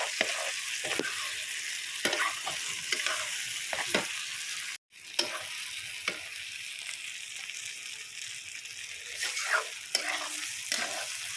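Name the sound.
goat meat cooking in a pot on a low gas flame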